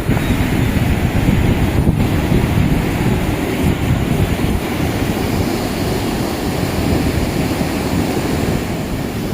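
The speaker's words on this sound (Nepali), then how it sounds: "चिसो हावा चलिरहेछ।" Cold wind blows by a river, heavy low rumble of gusts hitting the microphone mixed with the rushing water, loud and continuous without talk.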